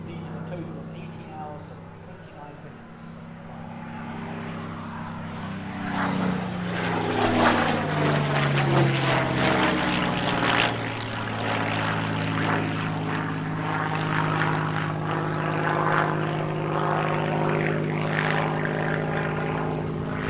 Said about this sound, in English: She's the only ex-Soviet Spitfire currently flying